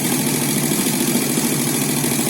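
An engine idles steadily during a charging system test, a loud, even mechanical hum with a low rumbling pulse, close by and without talk.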